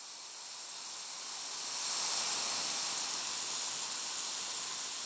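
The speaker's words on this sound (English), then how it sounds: "However, I sent it to a giant reverb that sounds like this." A washy, hissing wall of sound from a rain stick heavily drenched in reverb, swelling gently and sustaining evenly without distinct bead clicks.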